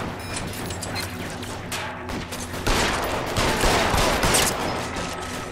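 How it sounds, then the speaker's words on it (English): Rapid bursts of gunfire from a shootout in the L.A. Noire detective video game, a dense fusillade that grows louder and heavier about halfway through. "Nice shooting."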